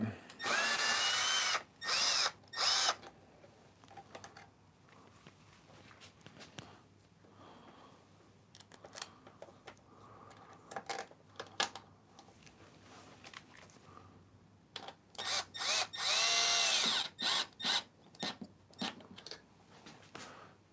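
A power tool, likely an impact driver or drill, works a bolt on a BMW R1250GSA motorcycle in a few loud close bursts at the start and end, with quieter clicks and handling noise between.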